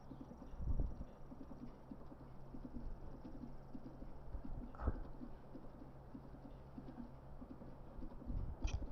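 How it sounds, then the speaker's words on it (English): A horse's hooves clip-clop at a steady walking rhythm in a Legend of Zelda game, soft and continuous under faint ambient game sounds, with a few louder thumps. "Stay on the road for me, horse."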